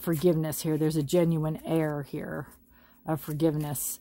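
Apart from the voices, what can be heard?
No distinct noise like a dog, phone or traffic.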